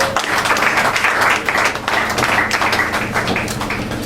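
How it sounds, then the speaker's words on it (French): Loud, sustained audience applause for an award laureate at a journalists' gathering in Kinshasa, dense clapping with some heavier taps and thumps, continuous throughout. "je vous demande de l'applaudir encore une fois très très fort."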